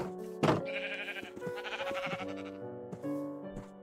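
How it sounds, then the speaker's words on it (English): Sheep in a video game bleat repeatedly in a farm scene, a loud near bleat followed by several overlapping wavering calls and a few soft clicks. "get some wheat and breed the sheep together"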